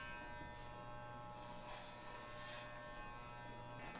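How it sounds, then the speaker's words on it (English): Electric hair clipper on a number two setting cuts hair during a home haircut, a steady close buzz holding at even strength throughout with no speech. "I'm using a number two setting on my clipper, by the way."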